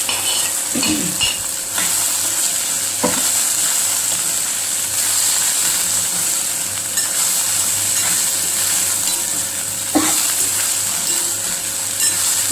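Okra frying in a pan sizzles steadily, with a few sharp scrapes and clinks as a spoon stirs it against the pan, close and without speech.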